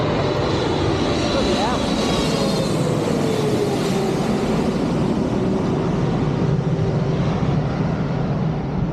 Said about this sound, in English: time for 777 300 noise.